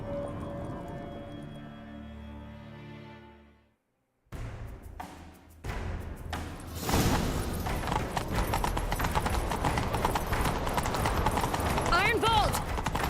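Horse hooves gallop in Witcher 3, rapid clip-clop beats building into a dense, continuous run after a brief pause, loud and close, following a stretch of game music.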